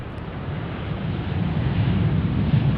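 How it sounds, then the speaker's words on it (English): Boeing 787 Dreamliner airliner at DFW airport, heard as a steady, rising low-pitched jet roar growing louder over a few seconds, with broadband wind-like rush and no talking. "Oh, we got Dreamliner action."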